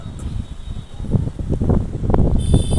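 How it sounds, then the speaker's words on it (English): Wind buffets the microphone in a continuous low rumble, with gusts that swell and fade throughout. "It's windy, as you can hear, that's why my audio won't be as smooth."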